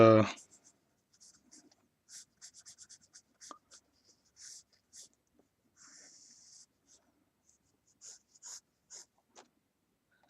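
A pencil shades an eyelid fold in an eye drawing, with short scratchy strokes in quick bursts, close and faint, after a brief opening voice.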